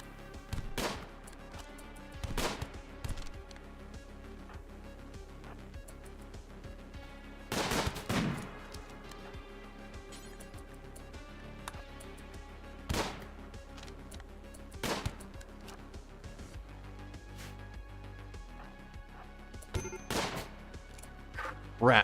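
Colonists fire guns in the video game Rimworld: sharp game gunshots come as scattered single cracks and short bursts over a steady background of game music, with a voice talking at times.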